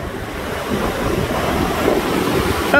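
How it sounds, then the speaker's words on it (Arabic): Big sea waves crash on the beach along the corniche at Al Hoceima, a loud continuous roar of surf with wind buffeting the microphone and no voices. "امواج خطيرة بزاف"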